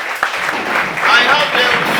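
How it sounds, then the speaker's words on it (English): Audience applause at a Rotary Club event, a steady wash of clapping that swells in the middle and continues for about two seconds. "A round of applause for us."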